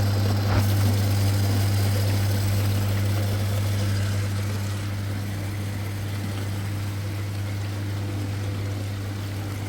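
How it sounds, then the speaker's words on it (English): A General Electric dishwasher's wash motor runs steadily with a strong low hum, while pressurized water sprays and swishes inside the tub throughout, slightly quieter toward the end. "Now motor already start."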